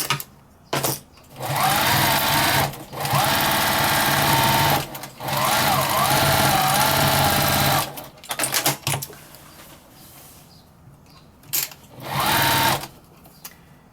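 A sewing machine quilts a fabric potholder, starting at a corner, running in several sustained whirring bursts of a few seconds each, separated by short pauses and a few stop-start stitches near the end.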